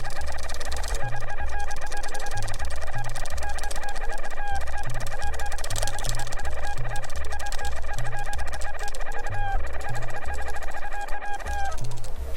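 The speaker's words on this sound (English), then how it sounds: "So we're gonna bother this chicken for fun." Angry clucking from a chicken in the video game Secret of Evermore, repeated squawks over a steady, loud chiptune-style music loop.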